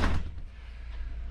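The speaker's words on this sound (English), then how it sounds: "when this door is shut" Door of a 1990s Newell RV coach swinging shut, a single dull thump at the start followed by a low rumbling hum.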